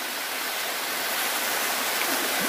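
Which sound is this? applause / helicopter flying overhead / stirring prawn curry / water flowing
water flowing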